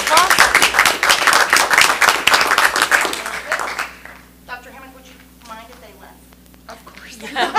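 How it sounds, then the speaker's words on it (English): Audience claps for instructional coaches at a school district meeting, a few seconds of loud, distinct hand claps that stop abruptly, leaving a quiet room with a low hum as a person starts speaking. "So let's give our instructional coaches a round of applause."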